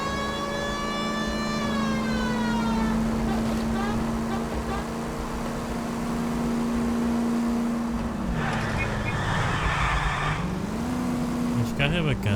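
Car engine in L.A. Noire revving with a steady rising and falling whine under road noise, and a wailing police siren sweeping in partway through and again at the end.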